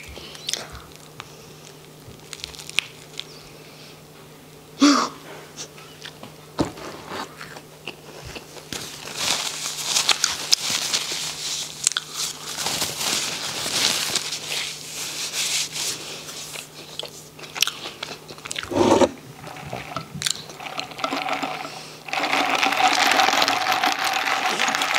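Close, crunchy biting and wet chewing of a large, dry Carl's Jr. burger continue on and off, with soft rustling and smacking in between.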